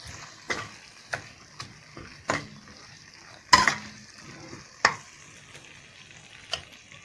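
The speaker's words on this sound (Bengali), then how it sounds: "এটাকে আমি নেড়ে দেবো।" A spoon stirs egg curry with a pinch of sugar in a pan, giving a series of sharp clinks and scrapes spaced about a second apart over a faint sizzle, close and clear with no talking.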